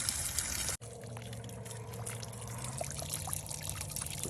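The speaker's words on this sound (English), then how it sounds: "you hear a steady stream of water" Water pours steadily out of a backyard horse trough and runs off across the ground, a continuous close trickling stream with no talk over it.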